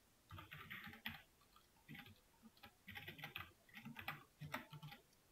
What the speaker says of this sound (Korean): 지금 저 되게 천천히 그냥 두둑두둑 이렇게 쓰고 있잖아요